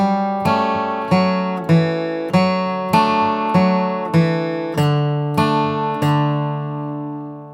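Acoustic guitar picking out a steady run of single notes from "Home, Sweet Home" in a bright, twangy bluegrass style, evenly paced and ringing out at the end.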